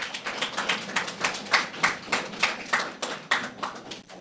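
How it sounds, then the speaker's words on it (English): A room of people clapping in a round of applause for a gentleman at a sports meet-and-greet, steady overlapping handclaps at close to mid range, swelling and fading in waves over several seconds with no talk. "So I think we should give him a round of applause"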